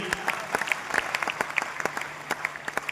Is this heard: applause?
yes